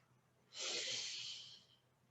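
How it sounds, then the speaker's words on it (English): A single long exhale through the nose during a gentle yoga session, a soft breathy rush lasting about a second, close and alone with no talking. "I'm breathing in and out through the nose"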